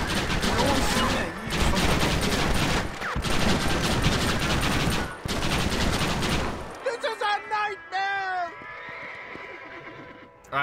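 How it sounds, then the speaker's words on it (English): Dense, continuous gunfire in the Western video game Red Dead Redemption roars loudly for about seven seconds in three bursts, then breaks into scattered shots mixed with horse whinnies and other game sounds. "Why are they all shooting at me?"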